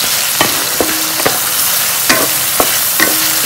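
Large red onions frying in a pan, a steady loud sizzle with several clicking stirs of a utensil against the pan at irregular intervals, close and continuous with no talk.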